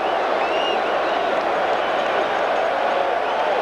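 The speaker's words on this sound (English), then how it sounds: "Naturally, the crowd hollers balk" Baseball stadium crowd at the 1986 World Series Game 6 near the Red Sox bullpen, a dense steady roar of many voices hollering after a pitcher's fakes, continuous and loud throughout with no single voice standing out.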